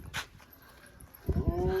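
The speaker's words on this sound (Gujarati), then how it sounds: "જ્યારે કૂતરા રોવે ને ત્યારે બહુ બીક લાગે" Village dogs whimper and yelp in a thin, plaintive way, one brief cry early on, then a closer burst of whining howls near the end, with a person speaking quietly in between.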